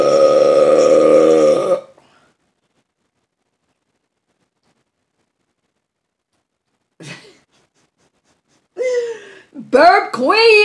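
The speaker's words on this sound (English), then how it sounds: "Burp queen over here." A loud, drawn-out burp after drinking Coke, close and alone for about two seconds, then silence, followed by short voiced sounds and brief talk.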